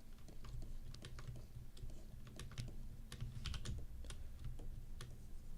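Mechanical computer keyboard being typed on in steady, rapid bursts of clicky keystrokes, fairly quiet and close, continuing without pause over a low background hum.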